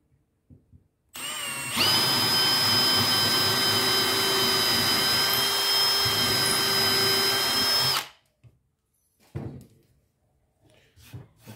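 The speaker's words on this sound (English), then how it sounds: "I've got a scrap piece of timber underneath it, just so that we're not drilling into our benches or tables" A power drill bores into a scrap offcut of Tasmanian oak laid over backing timber, a loud steady whine lasting about six seconds and then stopping, with a few faint knocks afterward.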